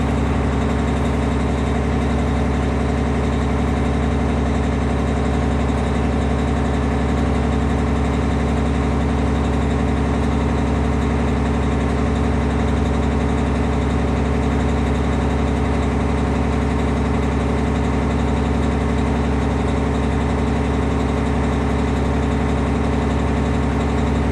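A truck engine idles steadily at about 1400 RPM, heard from inside the cab as a constant, loud, low droning rumble with no change in pitch throughout.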